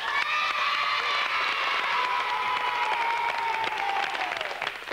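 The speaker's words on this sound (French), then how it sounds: "On les applaudit encore" A studio audience at a French children's TV show applauds the young contestants in a full, sustained burst of clapping with cheers and a high-pitched tonal sound running over it.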